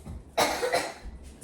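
A single sharp cough bursts out close by, followed by a short second cough after it, over quiet background noise.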